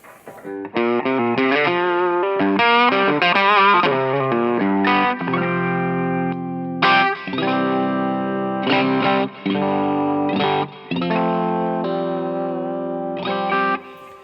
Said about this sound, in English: let's kind of run through the drive sounds from least amount of gain to most gain